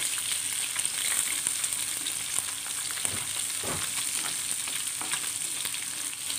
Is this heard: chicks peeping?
no